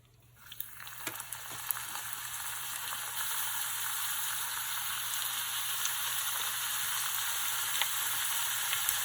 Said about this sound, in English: we can easily shallow fry our avocado rolls